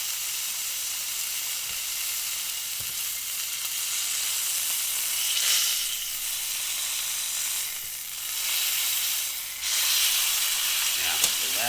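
A grass-fed ribeye steak sears in a pan over very high heat, giving a steady bright sizzle and hiss that swells in a few louder surges as the sides are pressed against the pan, with no talk.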